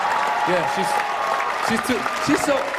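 Scattered audience clapping at a stand-up comedy show, mixed with crowd noise and voices talking over it in a short burst.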